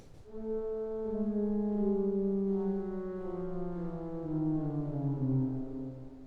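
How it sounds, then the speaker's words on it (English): Pedal octave notes sound on a 1946 Aeolian-Skinner pipe organ at Methuen Memorial Music Hall, a series of deep sustained tones stepping downward and overlapping, steady and resonant. "But the Aeolian-Skinner octave in the pedal"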